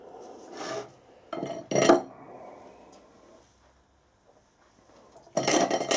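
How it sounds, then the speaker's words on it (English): Bursts of metal filing on a freshly machined steel adapter piece for a steam locomotive cylinder liner puller, several short rasping strokes with pauses between them, close and fairly quiet, no voices. "There's a little bit deburring to do, but basically it's not too bad."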